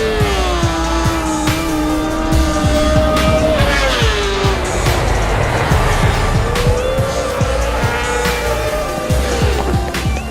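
A Honda Fireblade SP superbike, a 2020 British Superbike race machine with a new engine, screams through practice launch starts, its loud engine note climbing and falling through the revs with sharp harmonic sweeps, close and continuous.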